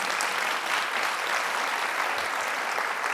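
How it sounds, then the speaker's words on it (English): Conference audience applauding a speaker, a dense, steady wash of many hands clapping, fairly loud and continuous, with no talking over it. "Let's just give her another round of applause."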